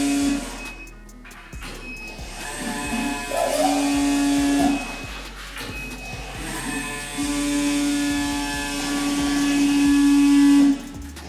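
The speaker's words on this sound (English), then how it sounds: "It's a big fuel pump, but I don't know if that's normal or not." A big electric fuel pump in a Volvo, working with a DW200 in-tank pump, whines steadily and loudly with a constant high tone that cuts in and out in stretches over a mechanical hum.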